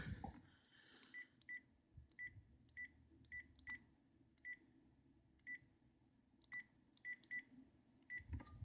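Touch-tone phone keypad dialing a number to reach eBay customer service, a string of about fifteen short, quiet DTMF beeps at uneven intervals over faint background hiss.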